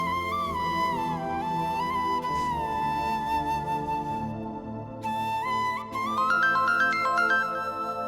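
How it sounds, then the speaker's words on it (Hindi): A mobile phone rings indoors with a steady, repeating electronic melody, moderately loud and close, with no talking over it. "देखो कहीं ताबीर का फोन ना हो।"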